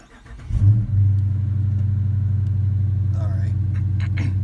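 A 2019 Dodge Challenger R/T engine cranks and fires up close by with a brief surge, then settles into a loud, steady, deep rumbling idle, with a voice speaking briefly toward the end.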